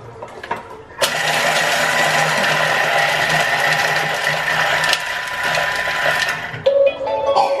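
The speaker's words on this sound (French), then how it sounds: "Et là, on va venir mixer 5 secondes vitesse 5." A Thermomix blends water, salt, pepper and other ingredients for five seconds at speed 5, a loud, steady mechanical whir that starts abruptly, holds for about five seconds and then cuts off, followed by faint handling noises.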